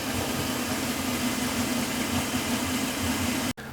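A Volvo Penta 5.7 V8 four-stroke inboard engine on a Regal Commodore 2565 boat idles with a steady, low, throbbing rumble, close and even, then briefly cuts out near the end.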